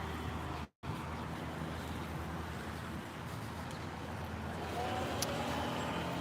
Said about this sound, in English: Hear these engine sounds when they drove by me.